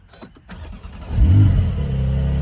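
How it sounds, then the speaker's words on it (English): A 2021 Porsche 911 Targa 4S with PDK gearbox, keyless entry, fires up: a click and starter whir, then the engine catches with a loud rising rev that settles into a steady, close idle. "and start the car"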